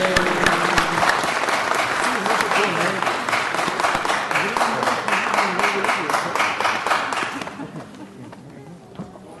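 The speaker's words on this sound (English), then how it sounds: "let's give Mary another round of applause" Audience applause fills a city council meeting chamber for Mary, sustained and dense at first, then thinning into scattered claps and fading as a few voices murmur.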